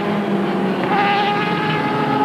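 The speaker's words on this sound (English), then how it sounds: "Oh, you can still hear that Mazda engine roar." A Mazda four-rotor prototype race car engine at the 1992 IMSA GT Championship G.I. Joe's/Camel Grand Prix roars through a twisty section in a continuous, raspy, sustained drone that swells slightly midway, fairly loud and with no voices over it.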